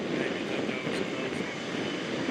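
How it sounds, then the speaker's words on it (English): Airbus Beluga XL number 5 taxiing out for departure toward runway 22, a steady droning engine rumble close by, constant and unbroken, with faint voices under it. "XL number 5 is loaded and is taxiing out for departure on runway 22."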